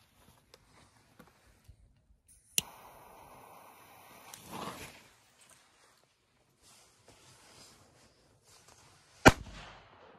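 Two sharp, loud Dumbum F3 firecracker bangs go off outdoors several seconds apart, each a sudden crack with a short ringing tail, separated by quiet stretches with faint rustling and small taps.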